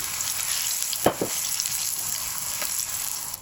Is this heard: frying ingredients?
yes